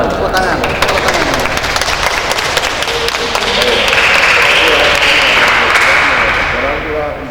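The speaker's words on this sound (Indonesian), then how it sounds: "Tepuk tangan. Tepuk tangan. Tepuk tangan." Applause from guests at a wedding blessing in Surabaya, a steady loud wash of clapping lasting several seconds with a voice speaking over it.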